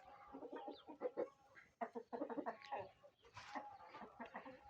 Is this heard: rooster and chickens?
yes